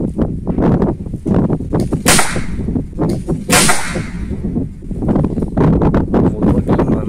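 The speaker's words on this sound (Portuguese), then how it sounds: "Agora vai fazer um disparo agora na latinha de coca" Two sharp, loud cracks about a second and a half apart, from a 5.5mm air rifle modified to fire .22LR rounds at a Coke can, over a steady outdoor background.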